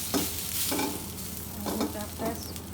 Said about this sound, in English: You're hearing the sizzling already.